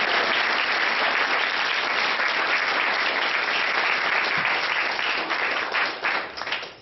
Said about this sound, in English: Round of applause for my mom and dad.